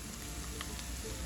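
Onions and chickpeas saute in a pan with a steady, soft crackling sizzle that continues evenly throughout, heard alone without talk.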